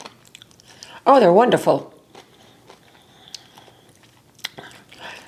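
Biting into and chewing a crunchy brined dill pickle that was vacuum-processed in a chamber sealer, a loud close burst of crunching lasting about half a second, followed by a person's short remark and quiet room sound.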